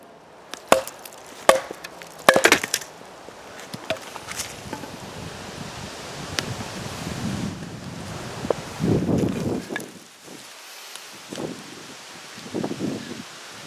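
Bow drill working a lime spindle on a lime hearth outdoors: a few sharp clacks as it seats, then rhythmic rough rasping strokes of wood on wood, close and moderately loud, coming in short bursts over light wind.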